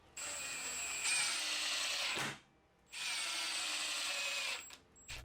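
A power drill drives washer head screws to fasten a clevis on a pneumatic drop panel prop, whining in two sustained close bursts that spin down, with a brief third blip at the end.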